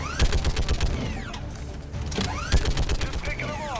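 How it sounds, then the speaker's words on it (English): A heavy weapon fires in a sci-fi shooter video game, producing rapid, loud bursts of automatic fire with whooshing, sweeping energy sounds, in two volleys separated by a short pause. "This is like the least accurate heavy weapon I've ever seen"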